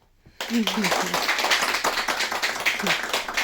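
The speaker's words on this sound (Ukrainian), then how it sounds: "Привітаємо пані Маргариту оплесками" Applause breaks out from an audience at a charity lottery event in a shop, starting suddenly after a brief silence and carrying on as dense, sustained clapping, with voices and a few cheers mixed in.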